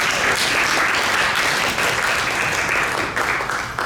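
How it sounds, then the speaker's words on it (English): A large audience at a United Nations Day of Peace event claps steadily and loudly, a dense, sustained wash of applause that tapers slightly at the end. "Let's give her another round of applause."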